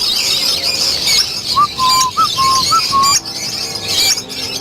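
A cherry lovebird pair in a breeding cage on a large lovebird farm gives repeated short whistled calls over constant high, busy chirping from many birds, with no talk.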